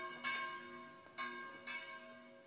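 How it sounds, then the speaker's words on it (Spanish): Convent church bells of the Daughters of Saint Francis ring for lauds, three distinct strikes with long ringing overtones, heard at moderate distance in a quiet room. "Se oyen las campanas de las hijas de San Francisco que van a cantar laudes ahora."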